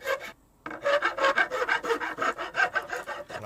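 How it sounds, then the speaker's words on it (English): A hand rasp filing a wooden knob, close and clear, with about a dozen rhythmic back-and-forth rasping strokes after a short pause. "And I mix with different rasps and files."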